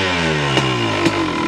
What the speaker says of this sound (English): I'm gonna start the bike in second gear and try and keep it running